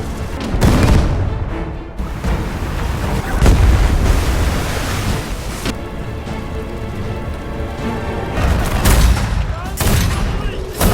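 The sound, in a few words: ship cannons firing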